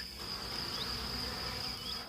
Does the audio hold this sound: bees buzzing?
yes